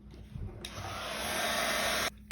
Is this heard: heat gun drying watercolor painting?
yes